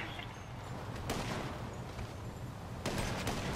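Dense, continuous gunfire from a shooter video game during a sniper match, with sustained rattling bursts and louder volleys near the start and end, and no talking.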